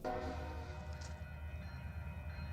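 A freight train pulled by four-axle locomotives gives a low, steady rumble that stays loud and even through the moment, with a horn-like tonal hum over it and no talking.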